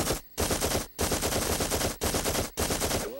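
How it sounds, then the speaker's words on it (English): Cartoon gunfire, several loud rapid bursts of rounds separated by brief silent gaps, close and harsh. "would wake up to go to the bathroom and fire off a few rounds just for kicks"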